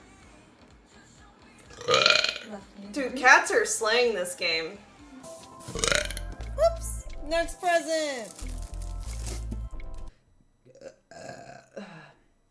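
A woman gaming lets out several loud, drawn-out burps, mixed with her own chatter and a laugh, with a low deep rumble running under the longest belches.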